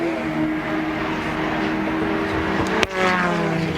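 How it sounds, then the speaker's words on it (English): V8 touring race cars at the 1989 Bathurst 1000 roar steadily at a distance, a continuous engine drone with a brief sharp crackle near the end. "Nothing like a bit of V8 roar."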